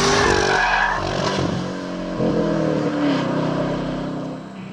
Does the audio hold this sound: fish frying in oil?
no